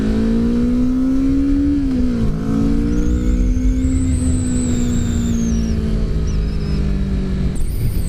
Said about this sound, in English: There's probably a lot of wind noise right now